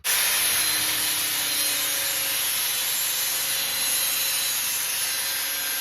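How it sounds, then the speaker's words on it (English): A cutoff wheel grinds through metal on a 1980 Ford F150, a continuous loud hissing screech that holds steady for several seconds up close with no voices. "So let's use the cutoff wheel till it dies."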